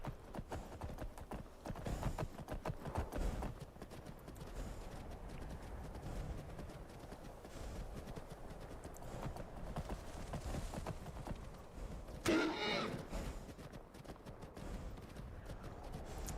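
Horse hooves clip-clopping in a video game, a steady rhythmic trot close by, mostly alone with a brief louder burst near the end.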